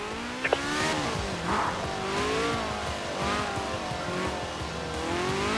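A car driven in the video game Forza Horizon 4 revs hard, its engine pitch climbing and falling through gear changes, with a brief tyre squeal early on.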